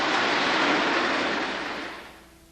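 Train sounds from a Trains marathon on TV make a loud, broad rumble of a passing train that holds steady, then fades away over the last second.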